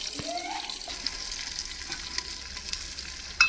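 Sliced onions sizzle in hot oil in a pan for kadhi, a steady close hiss with faint crackles and a sharp utensil clink right at the end, no voices.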